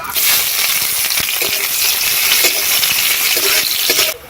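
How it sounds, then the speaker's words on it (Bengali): Black cumin, bay leaf, whole dried chillies and chopped onion frying in hot oil in a wok, a steady loud hiss and crackle running close and continuous until it cuts off near the end. "তেলের মধ্যে দিয়ে দিচ্ছি কালো জিরে তেজপাতা এবং গোটা শুকনো লঙ্কা পেঁয়াজ কুচি"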